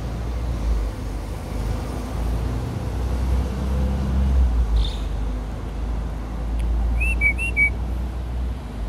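A small bird in Changi, Singapore gives a short run of bright, rising whistled notes near the end, faint and fairly distant over steady low traffic rumble.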